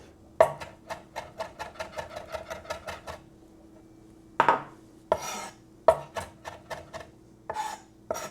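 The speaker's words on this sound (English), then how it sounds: "Basically just chop them, mince them." A knife chops and minces ingredients for salmon burgers on a cutting board, a fast steady run of crisp close taps, a pause, then several more irregular chops.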